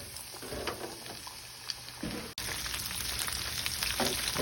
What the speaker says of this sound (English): Now your deep fry is already preheated, 350 degrees. Drop your crab in for 3 minutes.